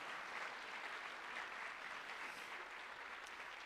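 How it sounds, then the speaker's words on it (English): Dense, continuous applause from an audience at a high school honors convocation, steady and fairly distant, with no voices standing out. "Let's give them a round of applause."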